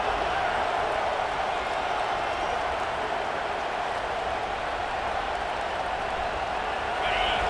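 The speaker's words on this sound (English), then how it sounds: "This crowd, full throat, splitting the eardrums" Stadium crowd in College Football 26 roaring at full volume, a dense, steady wall of cheering that holds loud and unbroken throughout.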